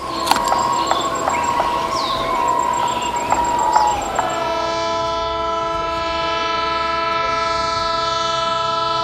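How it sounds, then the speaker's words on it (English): A train rumbles past at about 55 mph with steady mechanical noise, a loud horn blast sounding over the first few seconds before a sustained tonal drone takes over. "a train coming at 55 mph"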